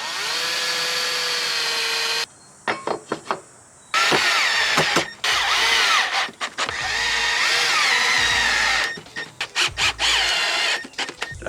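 A power drill drives into a teak swim platform board, whining in long bursts and short stuttering pulses that stop and start, close and loud with no talk.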